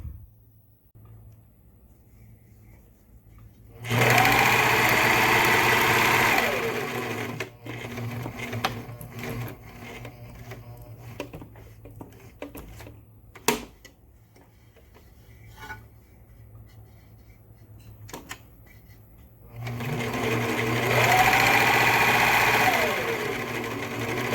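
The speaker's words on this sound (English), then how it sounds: "I'm just going to serge or zigzag stitch all the way around here" A serger sewing machine whirs in two bursts of rapid stitching around the edges of a fabric face mask, separated by quieter handling sounds and a sharp click in between.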